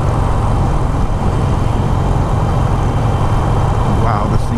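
Harley-Davidson Roadster 1200 motorcycle engine pulling at low RPM on the highway, a loud, steady low drone under heavy wind rush, holding even throughout without a clear rise in pitch.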